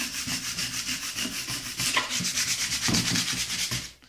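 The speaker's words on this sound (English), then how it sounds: "we're going to take a credit card or a hard squeegee, which is what I like to use. And we're going to rub." A hard squeegee rubs vinyl lettering onto a painted wood sign, making steady, close scraping strokes in a quick back-and-forth rhythm with no voices.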